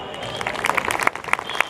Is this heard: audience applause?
yes